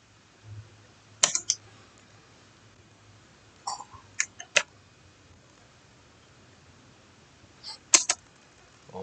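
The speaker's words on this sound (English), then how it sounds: "Now I need you to type in what I typed exactly the way I type it for you new beginners out here." Keys clatter on a computer keyboard as HTML is typed, arriving in short, scattered clusters of quick clicks with quiet gaps between them, close by and fairly soft.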